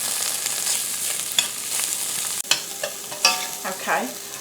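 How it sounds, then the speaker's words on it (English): Chopped vegetables and kielbasa stirred in a hot pot, a soft steady sizzle with a few sharp scrapes and knocks of the spoon against the pot near the end. "We're going to stir them around for about 4 or 5 minutes until they soften up."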